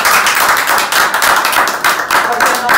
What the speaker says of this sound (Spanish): Quiero que le den un aplauso a la maestra Jessie Ferman